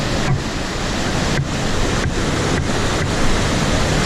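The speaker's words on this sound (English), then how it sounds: "And here's the falls that we're avoiding here." Rushing waterfall on the Irondale-Burnt River, a loud, continuous roar of falling whitewater close by, with wind buffeting the microphone.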